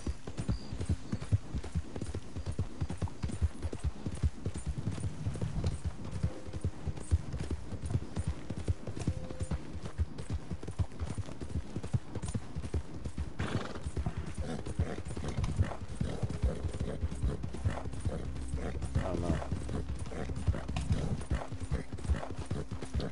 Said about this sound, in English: If I could just stay on my damn horse,